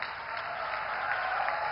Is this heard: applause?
yes